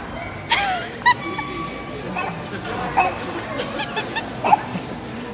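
A dog barks in short sharp yips and whimpers repeatedly, close by and fairly loud, with faint household voices murmuring in the background.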